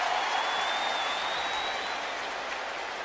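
A football stadium crowd at a Kansas City Chiefs at Houston Texans game reacts and cheers, a dense continuous roar that holds steady and slowly eases, with no clear speech over it.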